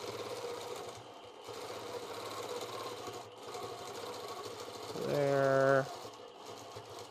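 A home quilting sewing machine sews a free-motion stitch-in-the-ditch line with a fast, steady whirring hum for under a second, heard softly behind a voice.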